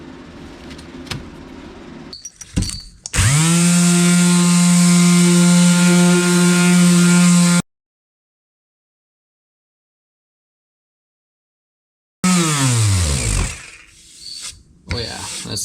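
A Bauer 20V cordless power sander with 150-grit paper whirs loudly with a steady tonal hum for several seconds, cuts out, then starts again and runs briefly before trailing off.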